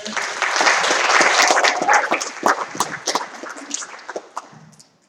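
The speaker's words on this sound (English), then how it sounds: "Shall we give them a round of applause?" A church congregation applauds warmly with dense clapping that swells, then thins out into scattered claps and fades away.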